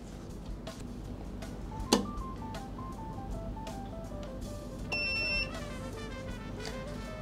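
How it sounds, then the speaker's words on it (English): Darkroom enlarger timer set to 3-second increments beeps in a steady series of short tones during test prints, with a louder click near two seconds and a sustained higher tone around five seconds, over a faint room hum. "my timer is set for 3 second increments"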